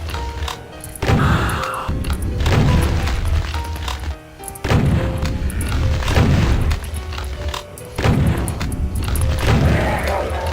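Rockets fire and explode in a Doom map, heavy booms and crashes repeating about every two seconds, loud and close, each blast trailing off before the next.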